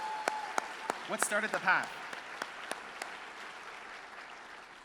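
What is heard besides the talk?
audience clapping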